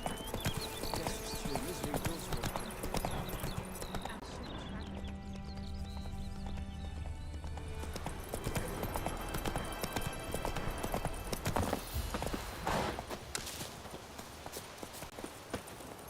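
Hooves clip-clop steadily as a horse gallops in The Witcher 3: Wild Hunt, with a brief whinny, game music and a voice layered throughout the run.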